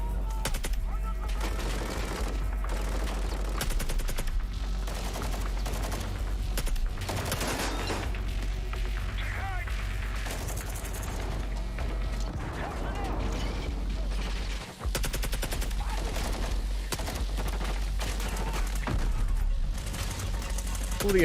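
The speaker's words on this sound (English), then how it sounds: "All the effects look pretty cool, you know, the explosions and the flashbangs going off." Bursts of video game gunfire and explosions from a shooter trailer crackle in rapid, dense volleys with sharp impacts throughout, over a steady low hum.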